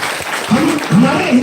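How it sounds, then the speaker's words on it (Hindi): Audience applause at a health awareness program in Mehalchori, a dense crowd clapping beneath a voice. "जोरदार ताली होनी चाहिए"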